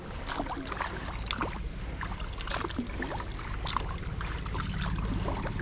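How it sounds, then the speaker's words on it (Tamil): A kayak is paddled on the water at Munroe Island near Kollam. Continuous splashing and sloshing of paddle and hull runs over a steady, fairly loud outdoor wash, with no clear talk. "அப்படியே பேசிக்கிட்டு துடுப்பை போட்டுட்டு"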